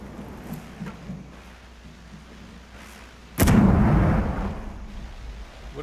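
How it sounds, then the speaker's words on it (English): A single heavy explosion in Rainbow Six Siege bursts loudly after a few seconds of low rumbling ambience, its boom decaying slowly with a rough, noisy tail. "What are those explosions?"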